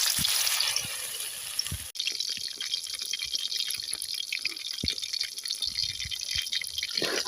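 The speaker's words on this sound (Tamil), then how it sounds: "நல்லா அரை மணி நேரம் ஊறிட்டு எண்ணெயில் போட்டு பொரிச்சு எடுத்துக்கலாம்" Marinated chicken 65 deep-fries in oil during village-style cooking, a dense bubbling hiss with scattered pops and crackles, loud and continuous apart from one brief dip partway through.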